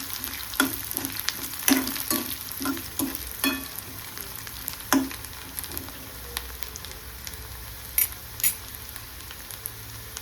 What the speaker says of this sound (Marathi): याच्यात कांदा घालून घेऊया आणि परतून घेऊया